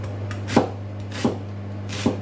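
Three knife chops thud on a cutting board at a slow, steady pace over a low hum, chopping onions.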